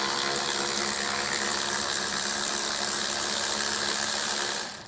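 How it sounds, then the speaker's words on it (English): A steady, loud mechanical whirring of a power tool or ratchet runs without a break while an 8mm bolt is removed from a 2023 Volvo XC60, stopping at the very end. "Remove the 8mm bolt on both sides."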